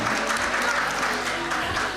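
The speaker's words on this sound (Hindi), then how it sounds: "उनके लिए तालियाँ होनी चाहिए" Applause at the Tum Se Hai Pakistan award show, a dense, steady wash of clapping that stays loud and even throughout, with no breaks.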